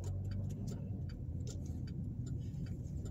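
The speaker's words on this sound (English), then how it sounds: "I am driving through the town of Marion, Indiana." A car drives through the town of Marion, Alabama, a steady low interior engine and road rumble with faint rhythmic ticking over it, continuous and close.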